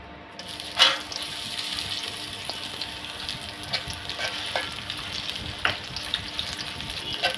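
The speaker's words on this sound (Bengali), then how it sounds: "এখন আমি এই তেলে বেরেস্তা করে নিব।" Onions fry in a cup of hot oil in a kadai for beresta, a continuous bubbling sizzle with a sharp clack near the start and occasional light stirring knocks.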